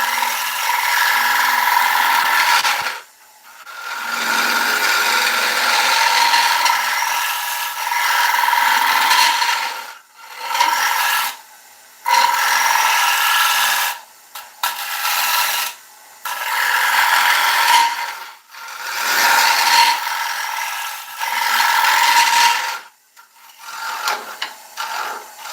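A British ash bowl being hollowed on a wood lathe gives off rasping, scraping cuts in repeated bursts of a few seconds each, broken by short silent pauses, close and fairly loud with no talking.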